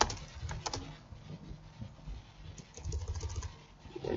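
Typing on a computer keyboard while writing C++ code, a quiet, close, uneven patter of key taps in short runs with brief gaps between them.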